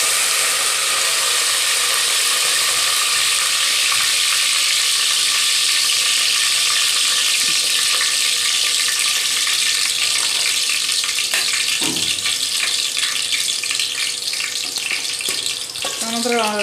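Curry leaves sizzle in hot oil at the start of a chicken tempering. The loud, dense frying hiss runs steadily throughout.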